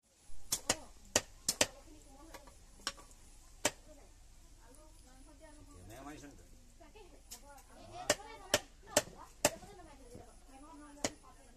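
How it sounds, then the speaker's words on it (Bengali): A knife chops banana stem (pochola) in sharp, irregular strikes, some in quick bursts, while voices talk faintly in the background. "পচলা কাটিছে।"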